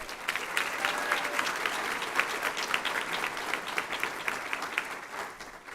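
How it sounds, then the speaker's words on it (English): Sustained audience applause at a graduation ceremony for a medical class, many hands clapping in a dense steady patter that fades slightly at the end. "So let's give a round of applause for our Golden Apple winners."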